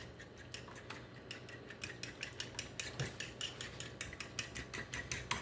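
A spoon beats hot mixture into egg a tablespoon at a time for a cinnamon roll apple pie lasagna, making steady rapid clinks and taps against a bowl, close and fairly quiet, with no talking.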